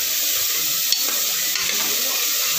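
Carrot, potato, peas and beans sautéed in a pan, a dense, steady sizzle with a couple of faint stirring scrapes, close and without speech.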